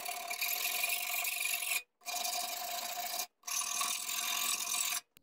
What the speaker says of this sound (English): you can run the file almost flat against the back of the blade to remove any burrs